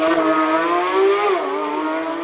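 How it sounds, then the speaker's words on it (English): A Porsche GT3 RS race car launches hard off the start line of a Cape Town hill climb, its loud, close engine note holding high and then rising and shifting as it pulls away. "GT3 RS of Ryan Lowe launches aggressively off the start line"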